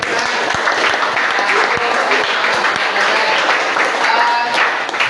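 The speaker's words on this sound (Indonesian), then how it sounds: "Oke, beri aplaus temannya." Classmates in an Indonesian classroom clap together in loud, dense, sustained applause that runs evenly for several seconds, with voices talking underneath the clapping.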